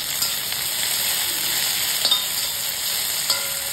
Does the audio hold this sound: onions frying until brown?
yes